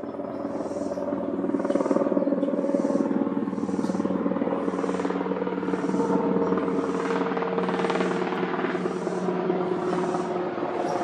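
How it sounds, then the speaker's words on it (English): A helicopter passes low over a park, its rotor thumping in a steady rapid beat under a loud continuous engine roar that holds throughout. "here comes a helicopter"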